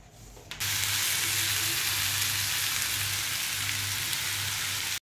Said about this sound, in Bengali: এই তো এদিকে মাংস কষানো হয়ে গেছে, এবার আলুগুলো দিয়ে দিব